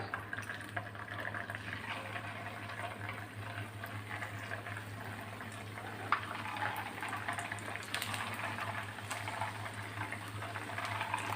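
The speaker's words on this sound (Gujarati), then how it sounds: "સેમ પ્રોસેસથી આપણે બીજા પણ નાસ્તાને ફ્રાય કરી લઈશું" Rava (semolina) snacks frying in hot oil over a medium-low gas flame, a continuous bubbling sizzle with a steady low hum underneath, unbroken by speech.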